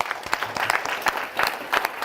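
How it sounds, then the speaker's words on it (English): A small workshop audience claps steadily for about two seconds, a brisk patter of hands with no talking. "Round of applause for him."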